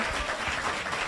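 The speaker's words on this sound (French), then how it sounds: "On applaudit très fort Esther Désir" A crowd applauds steadily, a dense wash of clapping heard at moderate distance with no voices on top.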